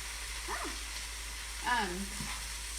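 Taco filling sizzles in a hot pan with a steady, close frying hiss, while a voice murmurs briefly over it.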